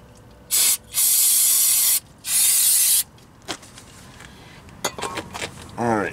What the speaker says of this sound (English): Let's give it a spray again.